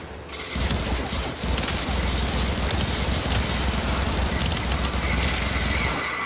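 A Warframe turret fires continuously, with a loud sustained stream of rapid shots and mechanical clatter running almost without a break, and a faint voice underneath.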